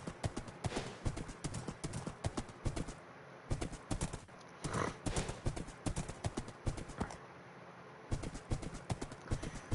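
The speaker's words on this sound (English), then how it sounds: "This horse got the perfect stats and a really decent color." Horse hooves clip-clop in a steady, close rhythm in a survival video game, with brief pauses and an occasional faint whinny-like sound, and no talking over them.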